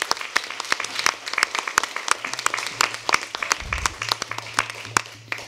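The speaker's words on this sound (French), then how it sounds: "je souhaiterais qu'on puisse vous applaudir à nouveau et vous remercier pour votre intervention" An audience applauds after a talk, a dense run of many hands clapping close by that keeps going steadily, slightly uneven in loudness.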